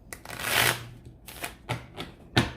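Tarot cards being shuffled by hand: a long riffling burst followed by several shorter shuffles and taps, close and crisp with no talking.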